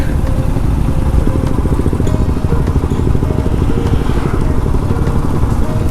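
Royal Enfield Himalayan BS6 motorcycle on a group Republic Day ride, its engine loud and close with a constant throaty, pulsing rumble and rough crackling texture.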